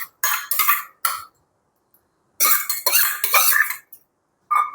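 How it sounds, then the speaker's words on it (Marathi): A spoon mixes dal into cooked ambadi leafy greens in a pot, giving several short, bright scraping and clinking bursts separated by silent pauses, close by. "आता हे जे डाळ दाणे आहे ते त्याच्यामध्ये मी मिक्स करते."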